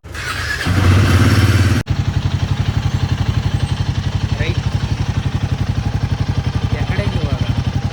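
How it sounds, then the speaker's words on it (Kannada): A Royal Enfield Himalayan motorcycle starting up: a brief whirring crank, a short pause, then the engine catches and settles into a loud, steady, rapid thumping idle as it warms up, close by. "ಫಸ್ಟ್ ಹಿಮಾಲಯನನ್ನು ಫಸ್ಟ್ ಸ್ಟಾರ್ಟ್ ಮಾಡೋಣ ವಾರ್ಮ್ ಅಪ್ ಮಾಡೋಣ"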